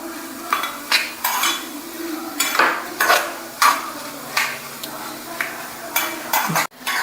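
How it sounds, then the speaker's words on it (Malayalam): Sesame seeds popping in a hot pan for a jackfruit payasam, a soft steady crackle under repeated scraping strokes of a spoon stirring against the pan. "ഇതാ ഒരു ചെറിയ സ്പൂൺ എള്ളുണ്ട്, അത് അതിലേക്ക് ഇട്ട് കൊടുത്തിട്ടുണ്ട്. ഇപ്പം ഇതിൽ ആ ചൂടിൽ തന്നെ അതങ്ങനെ പൊട്ടും"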